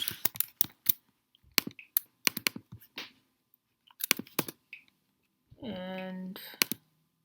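Typing on a computer keyboard, quick bursts of crisp key clicks in irregular clusters with short pauses, close and clear, with a brief hum of speech near the end.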